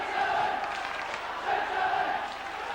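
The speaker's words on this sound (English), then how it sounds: "Crowd getting behind these Saints now." Rugby league crowd cheering for St Helens against Castleford in a 1987 match, a broad steady roar with surging swells, heard at a distance.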